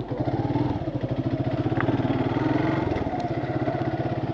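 A motorcycle ridden along a road gives a steady, close engine drone that holds evenly throughout, with a fast pulsing rumble and no talking.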